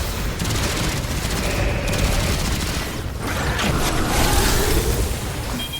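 Dense, continuous gunfire in the shooter game Destiny 2, rapid overlapping shots and booms forming a loud, unbroken barrage with mechanical clatter throughout.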